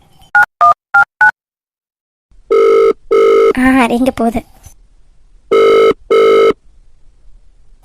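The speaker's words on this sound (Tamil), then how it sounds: "என்ன ஏதுன்னு நம்மளே ஃபோன் அடிச்சு கேட்போம்." Telephone tones on an outgoing call: a quick burst of four short dialing beeps, then repeated loud ringback tones in paired pulses, broken by a brief spoken question in the middle.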